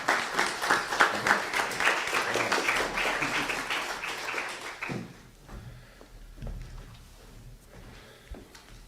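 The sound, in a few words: applause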